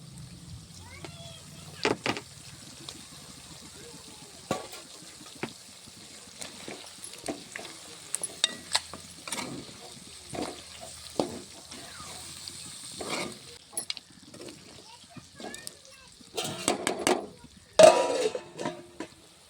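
Cut tomato pieces go into a cashew chicken curry cooking in a village kitchen. Faint frying hiss with scattered stirring clatter and scrapes builds to louder bursts near the end.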